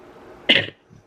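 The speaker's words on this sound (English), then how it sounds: "I knew I was gonna cough." One sharp, close cough bursts out of a quiet indoor room, brief and forceful, then fades to near silence.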